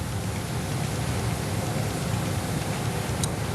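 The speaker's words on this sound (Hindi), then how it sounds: "डायरेक्टर मेट कराची शाहिद अब्बास के बकौल कराची पर 16 मिलीमीटर बारिश रिकॉर्ड की गई है" Rain pours over Karachi in a dense, even hiss, a steady, close wash of falling water with no voices.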